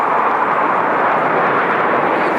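Jet fighters roar overhead during an ANZAC Day march, a loud, steady broadband rush that fills the whole stretch without a pause.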